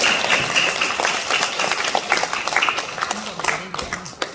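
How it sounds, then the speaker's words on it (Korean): A church congregation at a Mother's Day Sunday service claps to welcome visiting guests. The applause is loud, dense and sustained throughout, with a voice speaking over it. "박수로 환영하겠습니다"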